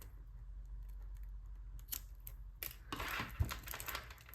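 Scissors snip off excess string while making a flared kandi ruffle cuff, a few close, sharp cuts and rustles over a faint low hum, with no talking.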